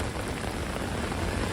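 Steady rain pours onto a New York City street, a dense, even hiss of drops hitting pavement and surfaces, close and constant with no voices.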